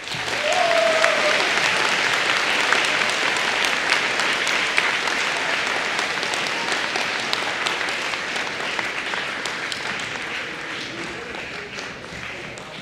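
Crowd applause after a career day keynote, a full steady roar of many hands clapping that holds loud and slowly tapers toward the end, with no voices over it.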